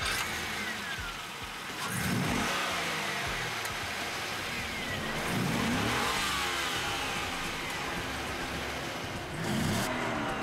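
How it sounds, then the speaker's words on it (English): A V8 car engine revs up in three separate bursts, each rising and falling back, with a whooshing roar between them. "This just doesn't sound like a big-inch V8 muscle car."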